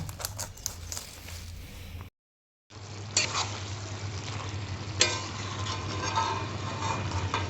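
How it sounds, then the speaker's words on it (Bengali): Cabbage frying with hilsa fish head in a pan gives a steady close sizzle with occasional stirring scrapes and clinks, broken by one brief silent gap. "আজকে ভাজিয়ে এই ইলিশ মাছের মাথা দিয়ে এই বাঁধাকপিটা রান্না করব"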